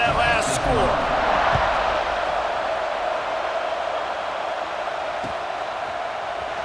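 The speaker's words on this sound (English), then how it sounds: "this crowd is buzzing after that last score" Steady roar of a stadium crowd in EA Sports College Football 26 after a score, a dense continuous wash of cheering that holds loud throughout, with a commentator's voice over it.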